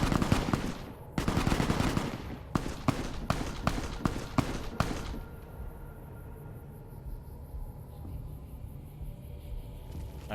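Gunfire in Fallout: New Vegas near a raider camp: a burst of rapid, sharp shots fired in quick succession, then a few spaced single reports before it fades to quiet ambient background.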